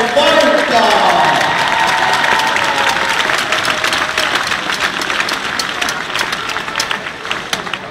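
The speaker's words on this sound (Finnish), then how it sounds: "Se on aplodin paikka!" Crowd applause at a veterans' ice hockey match between KalPa and JyP in Kuopio, sustained clapping that stays loud and steady before gradually thinning out, with faint talk beneath.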